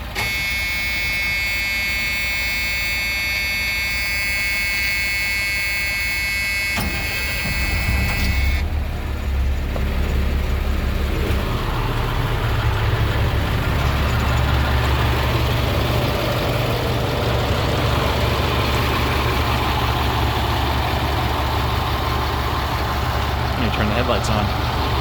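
Engine of a school bus starting up, a steady tone giving way to a loud, deep diesel rumble that settles into a close, continuous idle, with a voice talking over it.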